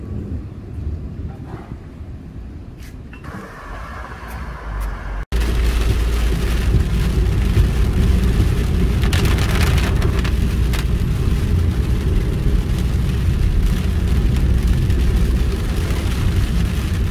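Steady heavy rain pours onto an old-town city street in Europe, a loud, dense continuous wash with low rumbling underneath, starting softer and then surging abruptly to full strength partway through.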